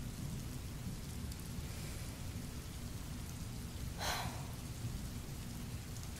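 Steady rain falls throughout a thunderstorm, a dense low rumbling wash with one brief brighter burst of thunder crackle near the end, no voices present.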